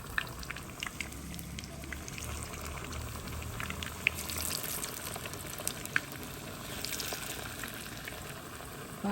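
A steady crackling sizzle of chicken pieces frying in hot oil, continuous throughout with a bubbling undertone and occasional louder pops.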